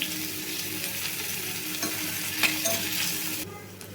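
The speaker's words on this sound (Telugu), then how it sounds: "ఇప్పుడు ఉల్లిపాయ ముక్కలు అయితే వేసేసుకోవాలి కొంచెం కరివేపాకు" Onion pieces and curry leaves fry in hot tempering oil for a potato curry, a close sizzle broken by spoon-stirring scrapes that quiets near the end, with nobody speaking.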